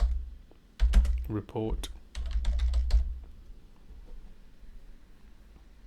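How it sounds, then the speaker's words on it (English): Typing on a computer keyboard, with bursts of key clicks close by and a voice speaking over part of it. "in here we want to type in parentheses August"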